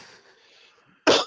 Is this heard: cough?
yes